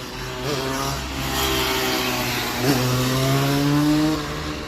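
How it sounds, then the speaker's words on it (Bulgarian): A motorcycle passes on a street: a steady, fairly close engine drone holds for several seconds with a slight rise in pitch, alone without talk. "тук що мина един мотор"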